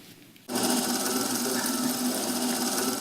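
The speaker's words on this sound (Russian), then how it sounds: "Звуки швейной машинки в этих стенах привычны всем, но чем ближе конец года, тем чаще они слышны" A sewing machine starts up abruptly in a theatre costume workshop and then runs steadily, loud and close, with a constant mechanical whir and a fast stitching rhythm and no voices.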